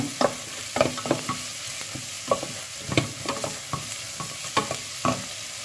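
Whole cloves sizzle and rattle in a hot pan for basmati rice, with repeated sharp stirring scrapes and crackling bursts up close, loud and steady with no talk.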